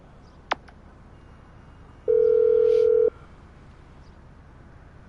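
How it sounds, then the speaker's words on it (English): A video game phone ringtone plays as a steady electronic tone lasting about a second, preceded by a short click and starting again at the end, heard clearly over a quiet background. "Whoa, who changed my ringtone?"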